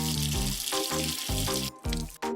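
Water gushes from a pipe in a steady, loud rush for washing hair, breaking into short bursts and stops toward the end.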